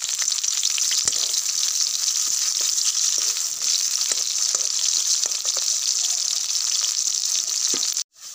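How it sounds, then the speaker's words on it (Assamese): Chopped onions sizzle in hot oil, a loud, dense and steady frying hiss held close throughout with a few faint stirring ticks, cutting off abruptly near the end, with no talk. "এয়া কাটি লোৱা গোটা পিঁয়াজ মই তেলত দি দিছোঁ"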